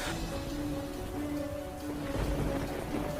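Heavy rain in a storm falls steadily around people sheltering under a tree, a dense even hiss with a faint distant rumble, loud and constant with no voices.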